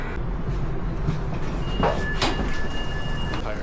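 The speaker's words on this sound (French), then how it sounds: "On vient d'arriver dans le petit RER" Inside a Paris RER commuter train, a steady rolling rumble fills the carriage, broken by a couple of sharp metallic clanks and a faint high whine, with no one speaking.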